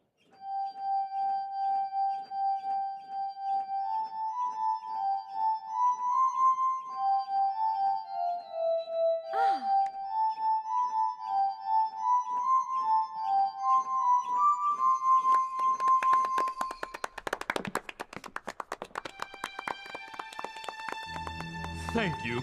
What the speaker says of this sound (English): This is an invention of Dr. Franklin's called the glass harmonica.